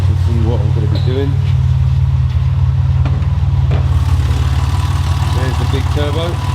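A Ford Granada MK3 with a Janspeed turbo engine idles with a steady, loud, low rumble, close up, while someone talks over it.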